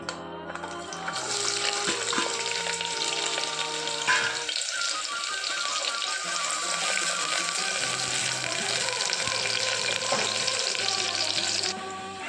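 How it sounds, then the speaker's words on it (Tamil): Onions sautéing in oil with cinnamon, cloves and cardamom for a chicken dum biryani give a broad, steady hiss of frying that runs almost the whole time. Faint clinks and scrapes sit under it, and no one speaks. "இப்போது வெங்காயம் வதங்கிட்டு இருக்கு"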